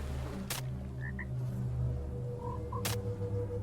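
A frog in the video game Back in the Swamp croaks in two short pairs of chirpy calls, quiet over a low ambient hum, with two sharp clicks between them.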